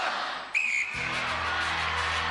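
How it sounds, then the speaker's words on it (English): A referee's whistle blows a single sharp blast to start a celebrity pursuit race in the 1994 UK Gladiators Christmas special, followed by a low, steady crowd and arena rumble. "you will go on my first whistle"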